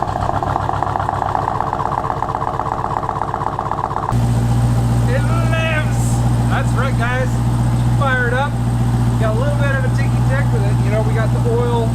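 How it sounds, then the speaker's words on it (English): A Jeep Trackhawk engine running after a rebuild growls loud and steady through its exhaust, the tone dropping into a deeper, heavier idle partway through, with chirping, voice-like sounds over the rumble. "As you can hear, this thing's exhaust is pretty exhilarating."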